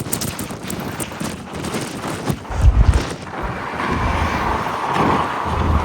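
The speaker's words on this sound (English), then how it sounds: "we were back on the windy bus once again" Steady wind buffeting a microphone on the open top deck of a moving bus in San Francisco, a continuous broadband rush with low gusty thumps.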